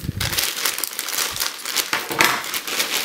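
Plastic packaging around a boxed LED rechargeable desk lamp crinkles and rustles close up as the parcel is unpacked, with continuous crackling handling noise throughout.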